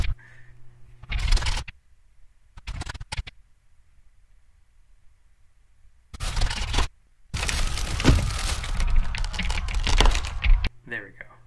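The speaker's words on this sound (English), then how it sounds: "now back to the board snapping" A wooden board is snapped and broken up for Titanic sinking sound effects, giving close, dry crackling and splintering bursts that are separated by stretches of silence.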